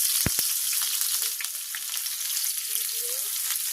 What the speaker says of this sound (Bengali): এখন আমি পেঁয়াজ কুচিটা দিয়ে দিচ্ছি